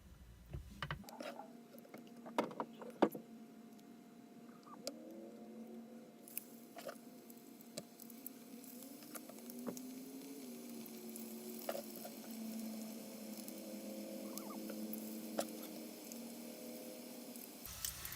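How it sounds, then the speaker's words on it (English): Catfish fillets in batter frying in hot oil for Southern fried catfish, a soft, steady sizzle with scattered small pops and crackles. The sound stays fairly quiet throughout. "So now I'm going to fry up the rest of them."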